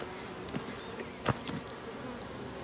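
Bees from a very large hive colony buzz as a steady, close drone throughout, with a few brief louder passes of individual insects near the listener.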